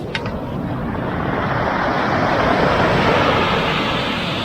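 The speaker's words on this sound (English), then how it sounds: "That is that sound of the rocks being pulled back into the ocean." Ocean surf on the rocky Lost Coast of California drags stones back down the beach, a dense continuous roaring wash of clattering pebbles and rushing water, loud and close with no talking.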